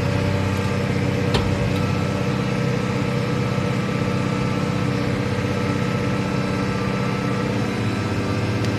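New Holland T6.175 tractor engine holds around 2000 rpm while creeping slowly forward, a loud, steady diesel drone with deep low rumble, close and continuous, without speech.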